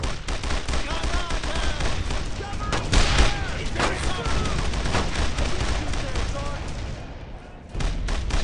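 Gunfire in the World War II shooter Brothers in Arms, a dense, continuous barrage of shots and bursts filling the clip, loud and close, with shouted voices mixed in over the battle.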